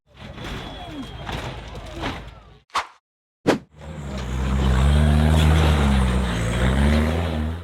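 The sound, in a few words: off-road 4x4 buggy engine climbing rocky hill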